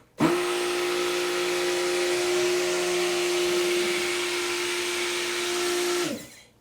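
A faulty stick blender motor runs with a steady high-pitched whine for about six seconds, then cuts off abruptly as it winds down.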